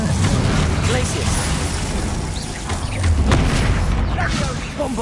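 A Bombarda spell detonates during a Hogwarts Legacy troll fight, a rumbling magical blast inside dense, continuous combat noise, with game voices talking over it.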